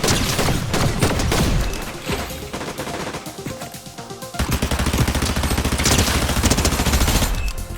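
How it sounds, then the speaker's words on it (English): Dense automatic gunfire in a Fortnite match, loud and continuous rapid bursts with a short lull midway before the shooting resumes, no talking over it. "Who the hell's shooting me from behind?"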